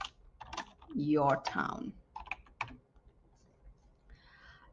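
Bursts of quick, light keystrokes on a computer keyboard, fairly close, while a person talks over and between them.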